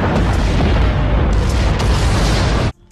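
A loud, close bomb blast in a video game: a deep booming roar that fills nearly three seconds, then cuts off abruptly into quiet.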